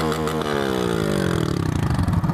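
A motorcycle engine revs with a falling, descending pitch sweep over about two seconds, close and loud, with no talk over it.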